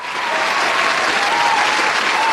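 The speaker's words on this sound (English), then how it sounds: "Give her a round of applause" A crowd breaks into steady, dense applause for a woman, a continuous loud wash of clapping with no gaps throughout.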